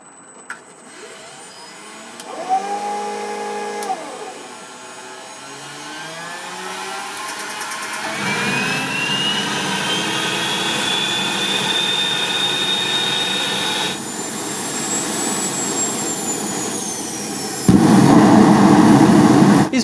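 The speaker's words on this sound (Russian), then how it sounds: "Немного прогрев двигатель, я приступил к испытаниям форсажной системы." A homemade jet turbine engine on a jet motorcycle running during afterburner testing, with a rising whine and steady roar that swells and shifts pitch, ending in a louder, rougher blast.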